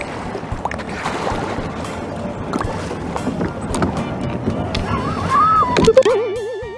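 Wind buffets and water slapping against a moving boat's hull at sea, with a motor droning underneath and a few sharp knocks near the end.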